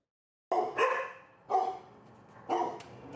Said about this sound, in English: Barking, a familiar sound to the Arizona Animal Welfare League.